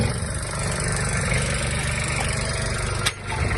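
A Kubota GB-18 mini tractor's engine idles close by, a steady low diesel rumble with even rhythm and a brief metallic knock near the end.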